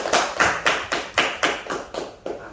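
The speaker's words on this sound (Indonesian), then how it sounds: "tepuk tangan untuk adik Nanda" Classroom clapping for a student, about nine loud evenly spaced claps in a steady rhythm, close and alone without voices.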